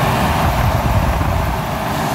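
An old S10 Blazer engine runs steadily while driven, a low continuous rumble with road and cabin noise and no pauses.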